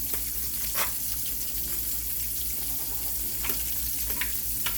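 About a dozen and a half Cajun-seasoned shrimp frying in oil, a dense close sizzle with sharp crackling pops scattered across it.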